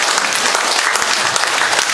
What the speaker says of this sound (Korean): 우리 오케스트라 단원 여러분들께 뜨거운 박수 한번 부탁드리겠습니다